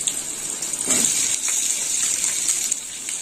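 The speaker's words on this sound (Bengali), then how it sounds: "বেগুনগুলো ভাজা হয়ে গেছে, এবার এর মধ্যে" Cut vegetables and papaya go into a pan of fried eggplant, bringing a steady loud sizzle and hiss of hot oil that flares briefly as they land.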